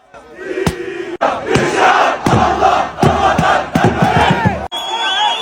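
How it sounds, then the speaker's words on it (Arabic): Moroccan football fans march through Paris toward the Parc des Princes, chanting loudly together in rhythmic bursts with sharp claps or drum hits, a close and energetic crowd sound. "كورتيج الجماهير المغربيه في اتجاه ملعب بارك دي بريس، احتفاليه كبيره كتعيشها باري"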